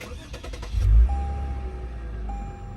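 A 2021 Lexus IS 350 F Sport engine starting: a short starter crank bursts into a loud low rev flare, then settles into a steady, smooth idle close by.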